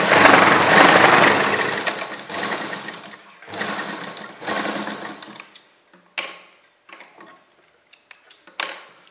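A sewing machine stitches along the edges of a long umbrella Anarkali kurti, starting with loud sustained runs of rapid needle clatter, then breaking into short stop-start bursts and clicks, close with no voices.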